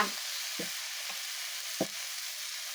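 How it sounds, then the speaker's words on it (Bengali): Ginger paste frying in hot oil for a Bengali fish curry, a steady, close broadband sizzle with a few soft thuds and scrapes from a spoon, no talk. "এখন দিব আদা বাটা"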